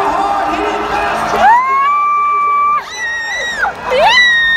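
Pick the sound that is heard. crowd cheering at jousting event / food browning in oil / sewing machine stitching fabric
crowd cheering at jousting event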